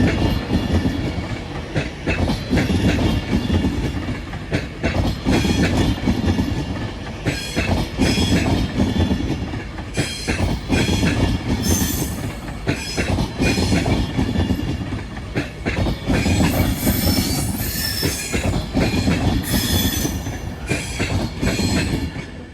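An Avanti West Coast passenger train passes at Wilms Road on its way from London Euston to Manchester Piccadilly. A steady loud rumble and rhythmic clickety-clack of wheels continue throughout, with no voices.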